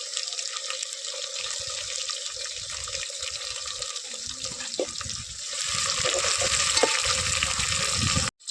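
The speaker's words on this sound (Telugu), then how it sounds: "ఇప్పుడు మనం టమాటా కట్ కట్ చేసిన టమాటా వేసుకుందాం" Chopped tomatoes dropped into a hot frying pan for chicken curry, giving a steady, loud sizzle that swells and intensifies midway before cutting off abruptly.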